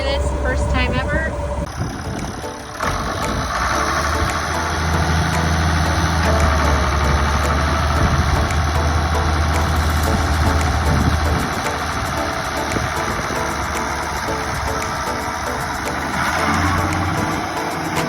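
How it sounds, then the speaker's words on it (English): A farm tractor idles before mowing hay in a field, its engine giving a steady, loud, low rumble that runs without a break, with some wind noise and a few small knocks over it. "And then here's our tractor."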